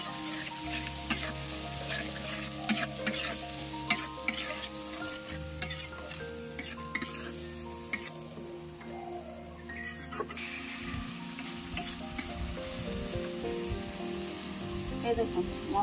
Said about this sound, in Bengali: এবার মশলাটা আমি ভালো করে একটু নাড়াচাড়া করে নেব।